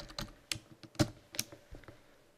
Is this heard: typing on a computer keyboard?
yes